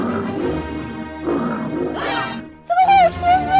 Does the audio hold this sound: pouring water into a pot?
no